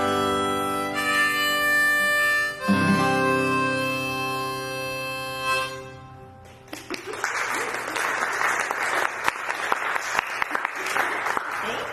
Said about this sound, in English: That wasn't a button of applause, just for you guys at home.